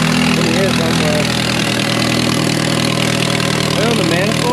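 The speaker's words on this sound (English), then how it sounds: "Besides that exhaust leak, that does sound like shit." A Volkswagen Jetta engine with an exhaust leak near the manifold idles loudly and steadily close by, a continuous low rumble with a rough, breathy edge that never lets up.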